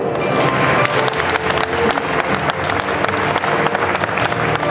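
A crowd claps steadily and densely for about five seconds at a gymnastics pommel horse warm-up demonstration, the applause sustained and loud with no pauses.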